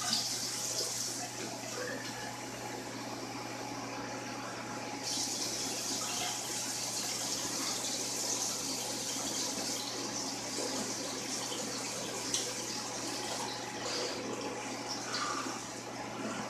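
Water runs from a tap into a bong in a steady, soft, hissing stream that continues for the whole stretch, with a brief slight surge partway through. Low and close, with no talk.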